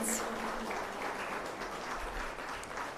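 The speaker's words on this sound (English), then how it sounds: "let's get one more round of applause for Dr. Barnett" An audience at the opening ceremony of the Caribbean Broadcasting Union's 55th Annual General Assembly gives Dr. Barnett a round of applause, a steady, dense wash of clapping heard faintly from a distance.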